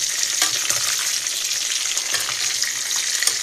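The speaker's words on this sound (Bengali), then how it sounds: "আমি মুরগিগুলি ভাজা নিতেছি।" Chicken pieces fry in a pan of oil, producing a steady, bright sizzle with soft crackles and a few light stirring clicks, close and continuous without any talking.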